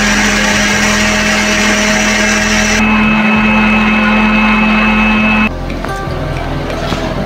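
An electric grinder jar whirs steadily as it finely grinds garlic and ginger for beef pulao, a loud, continuous motor drone whose pitch drops partway through and then shifts again near the end.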